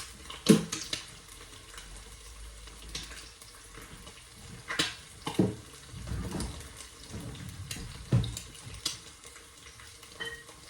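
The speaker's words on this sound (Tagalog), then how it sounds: "Lalagyan ko yung juice ng konting tubig." Water poured into a glass of orange juice in a home kitchen, with soft trickling and splashing plus intermittent clinks and knocks of the glass over about ten seconds, near and fairly quiet, without talk.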